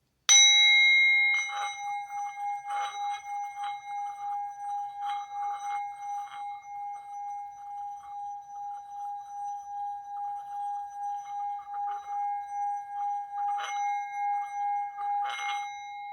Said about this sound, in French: On va essayer de faire un petit coup de bol tibétain, chakra du cœur